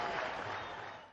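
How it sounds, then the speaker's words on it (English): The Pakistani cricket team applauds a batsman's innings during an India–Pakistan match, heard as a brief burst of steady, dense clapping from a moderate distance. "There you see the Pakistani camp applauding his effort."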